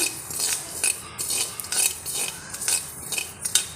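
A spatula scrapes and stirs millet around a dry pan while it roasts for a health-mix powder, making steady, rhythmic gritty scraping strokes up close with no talking.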